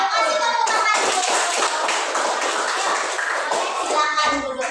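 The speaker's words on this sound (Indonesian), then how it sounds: "Kasih tepuk tangan dulu." A classroom of children claps their hands together in a dense, lively burst of applause that holds steady for several seconds before tapering off, with children's voices mixed in.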